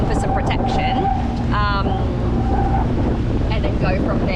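Strong gusty wind across a small sailboat at sea, a loud constant roar of wind buffeting the microphone, with a steady motor hum and brief creaking and rattling of gear.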